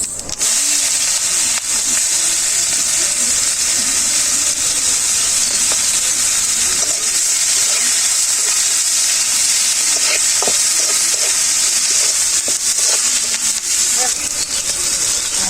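Cumin seeds and onion frying in hot oil in a village kitchen, a loud, steady sizzle and hiss running throughout with scattered crackles and pops, while a voice talks intermittently.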